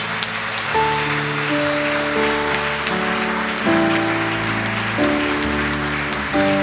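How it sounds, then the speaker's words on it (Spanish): Congregation applauding in a church, a dense steady wash of clapping with organ or keyboard chords sustained beneath it throughout. "Dale un fuerte aplauso al Señor."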